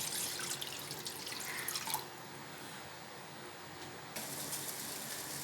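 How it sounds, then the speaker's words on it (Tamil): Water heating in a pan on the stove for making sweet milk kozhukattai dumplings gives a steady, moderately loud hiss of bubbling and rolling liquid, with a brief quieter stretch in the middle and no talking. "தண்ணி நல்லா கொதிக்க ஆரம்பிச்சிச்சு"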